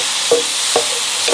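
Food beginning to fry in a Sunbeam Duraceramic ceramic-coated electric frypan, a steady hiss of sizzling with three soft stirring or shifting scrapes at even intervals, close and moderately loud, no talk.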